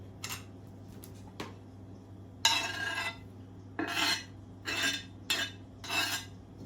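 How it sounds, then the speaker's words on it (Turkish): Bursts of rapid knife chopping of parsley and dill on a board, several short rhythmic runs separated by pauses, close and moderately loud over a low hum. "Şimdi malzemelerimizi doğramaya başlıyoruz."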